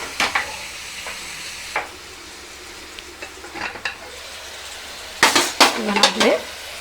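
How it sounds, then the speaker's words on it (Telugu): Masala-stuffed brinjals fry gently in oil over a low flame for gutti vankaya, a soft sizzle under sporadic utensil clinks and scrapes, with a louder burst of pan clatter toward the end. "లో ఫ్లేమ్లో పెట్టి ఆయిల్లో మగ్గితే బాగుంటాయండి."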